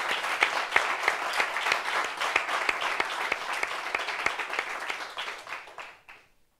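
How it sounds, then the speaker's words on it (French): Audience applause at a French-language talk-show gathering, steady dense clapping from a crowd for about six seconds before fading out. "Applaudissements pour lui, s'il vous plaît."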